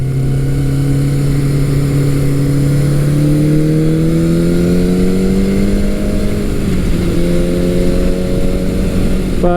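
A vintage middleweight motorcycle engine, Honda CB550 or Suzuki GS550, holds a steady drone, its pitch climbing slowly through the gears, then dipping briefly before rising again; loud and close, no voices.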